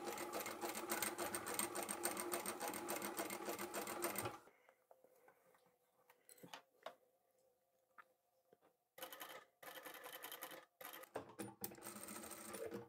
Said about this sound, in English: And just make sure that the other fabric is well out of the way as you're sewing.